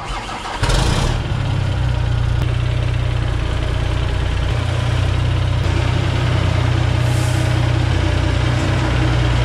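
A Volvo truck engine starts and settles into a loud, steady rumbling idle with throaty exhaust, continuing unbroken throughout.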